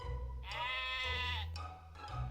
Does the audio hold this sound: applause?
no